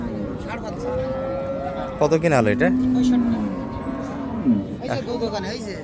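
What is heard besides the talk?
cow and bull calf mooing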